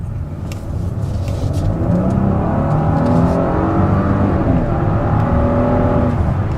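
A 2017 Lincoln MKZ with the 3.0-litre twin-turbo engine accelerates hard in sport mode, its loud, steady engine note rising continuously in pitch close to the cabin, with no talk over it.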